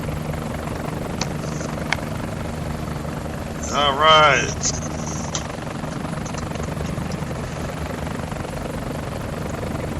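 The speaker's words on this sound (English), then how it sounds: "The helicopters are coming in." Approaching helicopters give a constant, loud rotor drone with low thumping throughout, while a voice briefly speaks over it midway.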